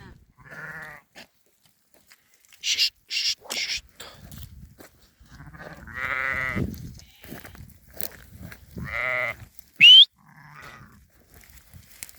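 Several sheep bleats ring out in short bursts, some close and some farther off, with a few quiet gaps between them.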